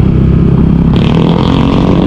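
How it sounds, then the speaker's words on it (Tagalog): Congested street traffic on the first day of school, with motorcycles and cars idling and revving nearby in a loud, continuous rumble. "Traffic dahil nga unang araw ng pasukan."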